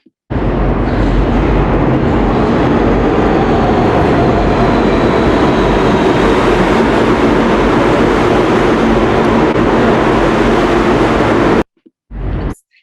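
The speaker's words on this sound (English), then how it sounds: "this was a recent test that we did in the subway station where I live, Fort Hamilton Parkway in Brooklyn" A subway train rumbles loudly and steadily through the Fort Hamilton Parkway station in Brooklyn, a dense roar with high squeal and rail noise lasting over eleven seconds before cutting off, followed by a brief burst.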